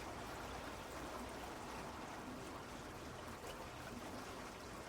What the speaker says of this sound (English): getting water out of this little stream